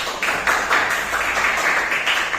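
A classroom of students applauding together, a steady close patter of many hands clapping in uneven pulses with no talk.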